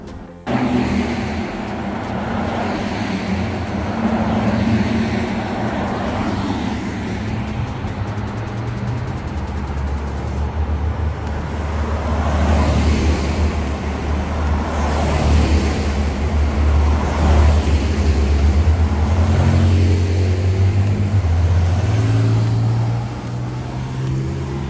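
An electric Porsche with over 700 horsepower launching at full throttle, heard as a rising low whine and rush of road and tyre noise that swells and holds for a long stretch, fairly loud and steady, with no talking.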